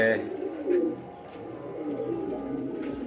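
Pigeons coo softly and nearby, a few low burbling calls in quiet surroundings.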